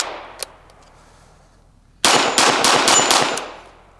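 TEC-9 pistol fired rapidly at targets outdoors: a single early shot, then a quick string of about seven loud, sharp reports lasting a second and a half, followed by a fading echo.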